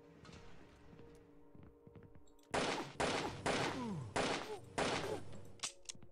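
A burst of five loud gunshots fires in quick succession in the video game 2Dark, each crack ringing out after a quieter stretch of faint game ambience.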